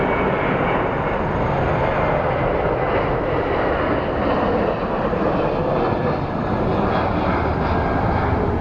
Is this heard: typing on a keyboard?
no